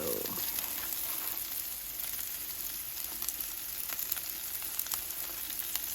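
Philly cheesesteak meat sizzling on a hot Blackstone griddle, a loud, steady close-up hiss with scattered crackles and pops throughout, no voices.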